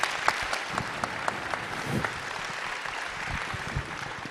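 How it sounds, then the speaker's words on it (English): An audience at the International Astronautical Congress in Baku applauds a conference panel, a steady sustained clapping from a hall crowd that holds evenly throughout. "Please join me in a round of applause for our panel."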